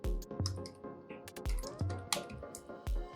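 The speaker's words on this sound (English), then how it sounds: "I'll type a date" Close, quiet typing on a computer keyboard while entering a date into an Excel spreadsheet, a steady run of soft clicking keystrokes with no voice.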